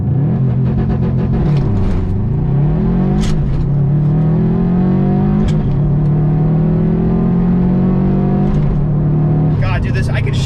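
A Subaru STI launches hard with traction control off, its engine roaring loud and close through rising revs and quick gear changes, tone dipping and climbing again at each shift while occupants talk over it.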